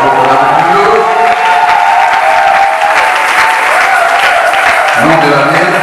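A crowd at a church event applauding and cheering loudly and continuously, dense clapping filling the space, with voices and a background tone carrying under it throughout.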